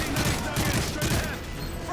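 Gunfire on a bridge in Call of Duty: Modern Warfare 3, a dense, continuous burst of rapid automatic shots and rumbling battle noise, loud and close, with voices in the mix.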